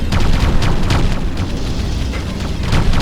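An enemy structure blows up in the real-time strategy game Ground Control, a loud, sustained rumbling blast with crackling bursts that fills the whole stretch without pause.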